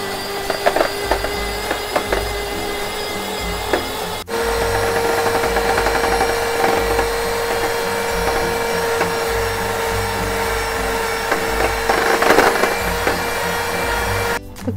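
An electric whipping machine whips cream for an eggless fresh mango layer cake, giving a continuous droning motor whine with a steady tone that shifts slightly in pitch and strength before stopping abruptly.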